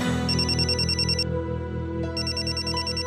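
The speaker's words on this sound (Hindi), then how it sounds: "देखिए एक फोन आ रहा है, बहुत जरूरी है।" A telephone rings with a steady electronic ringtone that repeats in pulsing bursts. It sounds fairly close, and no one speaks over it.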